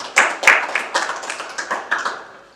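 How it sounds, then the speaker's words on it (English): A small audience claps for Grace at a tech jobs summit in Kenya, a brief patter of a few pairs of hands that starts sharply and fades out within a couple of seconds. "a round of applause for Grace"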